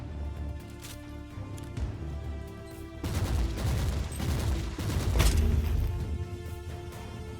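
Gunfire rattles in dense bursts while enemies are shot down in the video game Warhammer 40,000: Inquisitor – Martyr, growing louder and heavier midway with crashing impacts, sustained and close.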